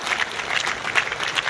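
An audience claps for an honoree at a school annual day celebration in Rajouri, a short burst of brisk, uneven applause heard up close.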